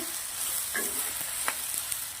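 Steady hiss of okra frying in a pan, with a few soft clicks and stirring scrapes over the continuous sizzle.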